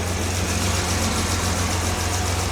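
A cold car engine idles steadily on full choke, a continuous low rumble with a slightly rough, knocking edge, close and alone with no voices.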